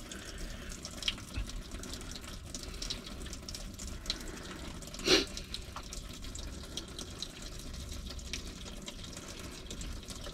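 Water flushes out of the engine block of an inboard/outboard boat being winterized, a steady close rushing stream with one brief louder splash midway.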